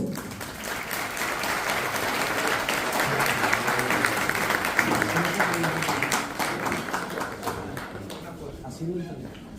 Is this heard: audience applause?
yes